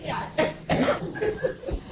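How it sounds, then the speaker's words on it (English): Several short, sharp asthma coughs in quick succession, close to the mic and fairly loud, with a brief throat-clearing quality and no talking. "I do suffer from an asthma cough"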